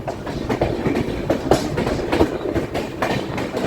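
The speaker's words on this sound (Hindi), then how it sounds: "मध्यम स्पीड में हम लोग यहाँ से निकल रहे हैं तड़क तड़क आवाज़ के साथ।" Indian Railways train wheels clatter steadily over rail joints at moderate speed, heard from a 3AC coach, a rhythmic clickety-clack with rumbling carriage noise, close and fairly loud.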